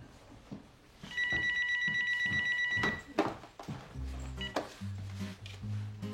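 A telephone rings with a repeated electronic trill, bright and fairly close, followed by footsteps and clunking handling sounds as someone moves to answer.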